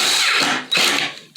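A power drill drives a screw into a board during a mobile home bathroom remodel, close and loud, whirring steadily for most of a second, cutting off briefly, then spinning up again with a fresh burst.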